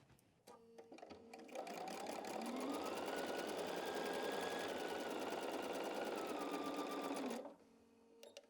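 A sewing machine runs one continuous stitching burst of about six seconds along a quilt block seam, its motor whirring steadily and near, starting and stopping cleanly, with no talk during the run.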